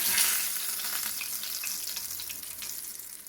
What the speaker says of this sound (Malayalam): ഇപ്പോൾ ഇത് ഹാഫ് ഫ്രൈ ആയിട്ടുണ്ട് നമുക്കിത് എണ്ണയിൽ നിന്നെടുക്കാം